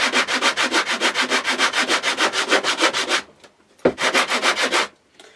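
Sandpaper roughens the wooden surface of a guitar fretboard in fast, rhythmic back-and-forth strokes, close and loud, stopping briefly before a second short burst of sanding.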